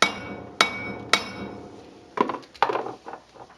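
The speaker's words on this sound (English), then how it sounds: "We'll just take a hammer and tap it." Steel hammer taps ring out on the spindle bearing nut of a Chevy Silverado front hub, three clean metallic strikes followed by a quicker cluster of clanking hits, close and loud with no talk.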